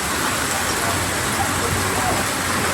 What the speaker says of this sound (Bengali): শিলাগুলা পড়তেছে তীব্র ঝড় বৃষ্টি হচ্ছে